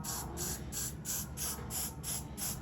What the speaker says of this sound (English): We're just gonna slightly spray it, cover his face.